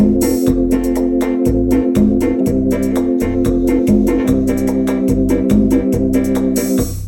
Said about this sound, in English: you've got this rhythmic orchestra thing, which is the comping, or turn the drums down a bit